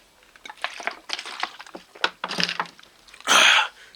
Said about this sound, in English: I need to drink some water because I'm thirsty as hell.